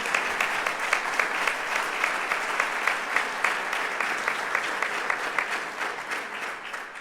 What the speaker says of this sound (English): You got to clap for that.